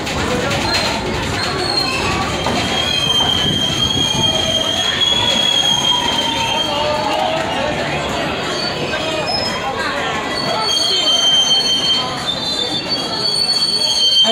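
A passenger excursion train at Stone Mountain Park rolls along the rails with loud, continuous wheel squeal and a steady grinding rumble, close and unbroken throughout.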